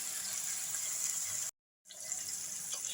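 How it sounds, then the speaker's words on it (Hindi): Two glasses of water poured into minced meat with chopped tomatoes in a cooking pot for chong (Caralluma fimbriata) keema: a steady, loud rushing pour that breaks off into silence midway, then resumes. "अब 2 गिलास पानी डाल के हम कीमे को गलने के लिए रख देंगे"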